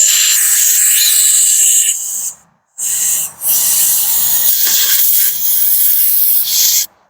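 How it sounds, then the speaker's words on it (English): Compressed air blasting into a yard-sale generator, a loud steady hiss held for about two seconds, a short break, then longer sustained bursts with brief dips before cutting off. "Let me hit it with a little bit of compressed air"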